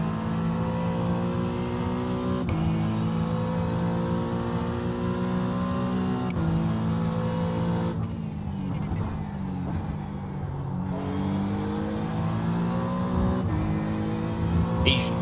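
Simulated GT3 race cars with a Corvette and Cadillac at Watkins Glen in iRacing, engines humming steadily with gear-shift drops and rising revs, plus one brief rough passing burst in the middle.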